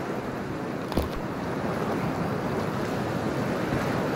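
Splashing water and a rushing, surf-like wash as a character wades into toxic water in Cyberpunk 2077, with a brief splash near the start followed by a steady, loud roar of moving water alone.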